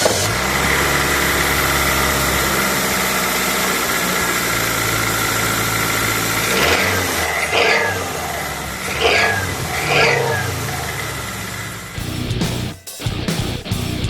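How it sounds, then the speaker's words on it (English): A Toyota Corolla engine starts after a starter replacement and runs at a steady, rumbling idle for a long stretch, joined by some brief bursts of activity and a few rattling knocks near the end. "Start the car."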